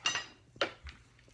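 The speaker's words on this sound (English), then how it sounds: "That is my leftover rice. I'm going to stir that in." Leftover rice being stirred into a pan, heard as a few distinct metallic clinks and scrapes of a utensil against cookware, with a sharp knock near the start, another in the middle and a softer one after.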